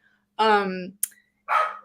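A dog barks nearby during a conversation: one long, harmonic bark, a short click, then a second bark.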